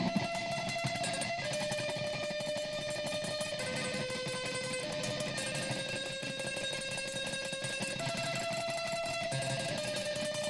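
Electric guitar playing fast trills and repeated notes, a steady dense distorted tone that stays loud throughout with no talking.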